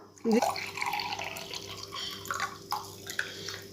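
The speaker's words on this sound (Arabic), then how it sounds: "غادي نضيف نص كاس تاع ماء" Half a glass of water splashes and gurgles into a cooking pot of potatoes and cream for a few seconds, poured up close and continuing steadily over a low background hum.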